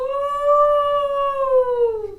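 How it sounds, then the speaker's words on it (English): A wolf howl in a stage play rises as one long, clear, sustained tone lasting about two seconds before sliding downward at the end, loud and alone. "And a scary howl."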